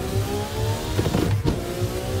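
A Nissan R34 in the Assetto Corsa driving game, with a steady, close engine drone that rises slightly as it revs, heard alone with no talking.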